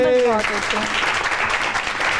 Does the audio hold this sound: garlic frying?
no